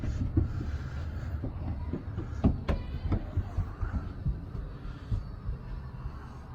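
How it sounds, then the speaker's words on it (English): A model train running on a home layout: a quiet, steady rhythm of light clicks and clacks as the wheels cross the track joints, with a low hum underneath and no talking. "I'm gonna run the train now"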